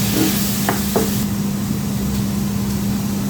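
Steady broadband sizzle of ham frying in a pan, close and continuous, with a low hum underneath and a couple of brief clinks.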